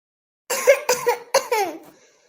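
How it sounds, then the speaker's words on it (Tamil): Someone coughs several times in quick succession, a short close burst of harsh coughs in a cartoon scene. "எனக்கு இருமல் வந்துச்சு, நான் இருமுனேன்."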